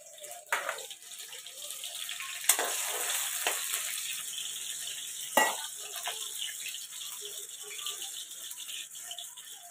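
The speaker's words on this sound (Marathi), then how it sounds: "आणि ते जरा तेलात चांगला फ्राय होऊन घेऊ" Potato slices frying in hot oil in a pan for sabudana khichdi: steady sizzling and bubbling with occasional sharp clinks and rattles of stirring, fairly close and without talk.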